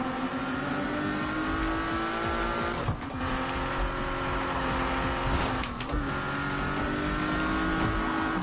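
Race car engine droning steadily in the Need for Speed racing game, with tire squeal and skidding through corners, loud and continuous with two brief dips as the car shifts or slides.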